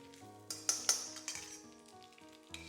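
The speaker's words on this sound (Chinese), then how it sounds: "先把肥肉下锅，小火煸炒一下，炒出里面的肥油" Fatty pork renders in a little oil over low heat, giving a quiet sizzle broken by several sharp spatula scrapes and clinks against the pan, with soft music underneath.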